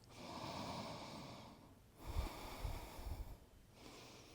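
Slow, deep breathing during a yoga session: a long, airy inhale followed by a fuller, rougher exhale, close to the microphone and without speech.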